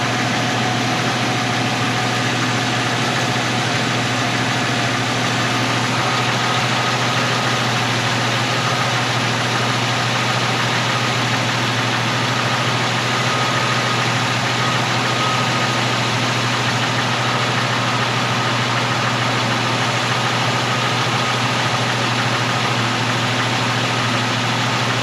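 An AMC 258 straight-six in an M5 Studebaker truck, fitted with a cheap eBay carburetor, idles steadily and loudly at close range with a constant low drone and no pauses.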